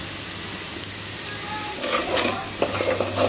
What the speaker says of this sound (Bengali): আস্তে আস্তে করে সুন্দর করে ভাজতে হবে।